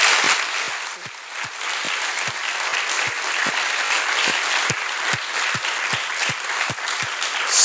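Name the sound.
audience applause for astronaut Jessica Meir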